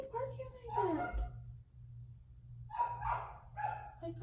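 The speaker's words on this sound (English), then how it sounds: "why are they barking like that?" Dogs bark in two clusters of sharp, yipping barks, close and fairly loud, separated by a brief pause, with a steady low electrical hum underneath.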